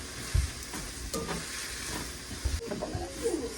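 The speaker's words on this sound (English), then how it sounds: "we're gonna add in the peppers and the green onions" Peppers and green onions drop into a hot pan for a stir fry, giving a low thump and then a steady sizzling hiss with a few scraping stirs, close by and without speech.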